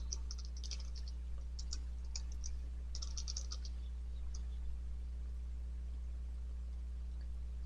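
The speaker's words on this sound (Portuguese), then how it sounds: "vou digitar aqui a senha antiga, né? E vou criar uma nova senha para o João" Someone types a password on a computer keyboard: quick, light bursts of keystrokes in irregular clusters, then a pause into near silence over a steady low electrical hum.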